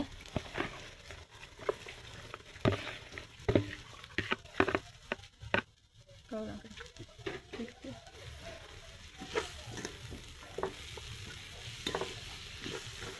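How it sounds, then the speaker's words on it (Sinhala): Leeks and carrots stirred and frying in a pan for Sri Lankan chicken kottu, with steady sizzling broken by repeated scraping clatter of the spoon, close and moderately loud, with no talking. "එකතු කරගෙන හොඳට කවලම් කර ගන්න ඕන."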